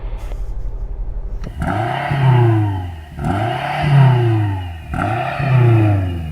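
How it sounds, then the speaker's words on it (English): A BMW M5 engine revved hard three times in a row, each rev a loud, close, rising roar that swells and then falls away, after a brief low idle at the start. "we're going to do a sound check, and I'm going to rev this up first"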